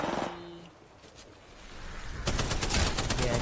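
Rapid automatic gunfire in Apex Legends bursts in loudly after a quieter stretch, a dense rattling stream of shots close by.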